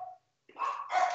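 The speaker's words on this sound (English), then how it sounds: "we have dogs and somebody's ringing the doorbell" Dogs in a home bark as a doorbell rings, a short sharp yelp followed after a pause by two louder close barks, with no speech.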